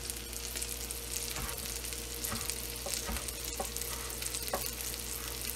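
Meatballs fry and brown in a pan with a constant close sizzle and crackle, broken by occasional pops and soft scraping, with no voices.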